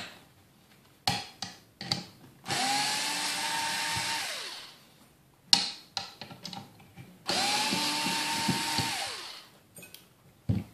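A power screwdriver undoes bulb holder screws on a 2011–2014 Kawasaki ZX10R motorcycle, two long whirring runs with a falling pitch as each stops, separated by short clicks and clatter, close and loud.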